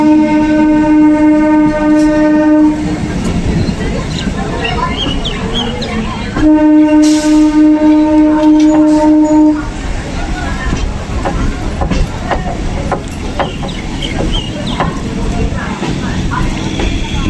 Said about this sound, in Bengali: বারুইপুর লোকাল চলে যাবে ডান দিক দিয়ে,